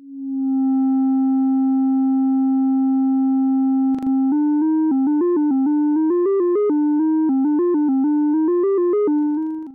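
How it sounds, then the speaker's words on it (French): A Bastl+Casper Ikarie synth filter self-oscillates as a steady pure sine tone holding one pitch, then after a brief click steps through a quick, shifting melodic sequence of clean tones. "Ikari auto-oscille et propose en sortie une sinusoïdale"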